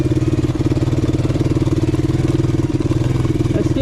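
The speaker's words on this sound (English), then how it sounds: "We'll run it for a little here with the choke on." A 1984 Suzuki LT185 ATV engine runs with the choke on, a loud, close, steady single-cylinder putter with a fast, even pulse and no change in speed.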